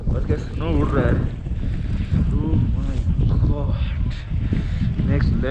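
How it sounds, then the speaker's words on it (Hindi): Strong wind roars across the microphone at the high Khardung La mountain pass as snow blows about, a loud, gusty rush that continues without a break while a person talks over it. "क्या हवा चल रहा है और क्या स्नो उड़ रहा है।"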